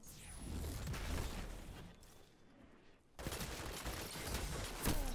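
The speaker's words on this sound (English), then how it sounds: "I started getting shot in the back, so I had to re-peek." Gunfire in the video game Destiny, sustained rapid shooting and impacts that drop out briefly near the middle before resuming in a loud close barrage, with no talk.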